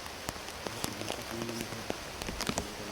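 Rain falls steadily outdoors, a soft, even patter with scattered sharper drops hitting surfaces nearby, faint overall with a brief low hum in the middle.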